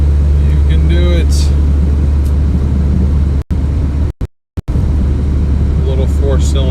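Inside a small 4-cylinder Toyota car climbing uphill with the air conditioning running, a steady low engine drone and road rumble fill the cabin. A voice speaks briefly over it, and the sound drops out for a moment.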